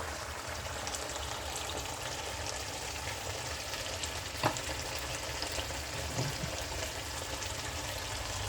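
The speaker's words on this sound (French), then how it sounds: "Je laisse d'abord cuire la tomate, l'ail et l'oignon." Tomato, garlic and onion cooking in a pan for a meat and pumpkin seed sauce, a steady low sizzle and bubbling with a faint clink near the middle, no talking.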